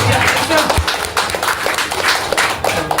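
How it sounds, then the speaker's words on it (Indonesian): Applause from guests at an engagement ceremony: a dense, continuous patter of many hands clapping that stays fairly loud throughout, with a few sharper claps standing out. "Tepuk tangan."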